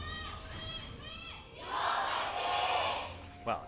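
A crowd at a League of Legends esports match in the LCK summer split swells into loud cheering and yelling after a few early high calls, the roar building and holding at a distance before a brief sharp shout near the end.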